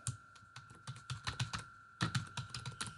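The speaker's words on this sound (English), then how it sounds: "So I'm going to type number of hours" Fast, light typing on a computer keyboard, with crisp irregular key clicks in quick bursts and a short pause partway through, heard fairly quietly and close with no talking.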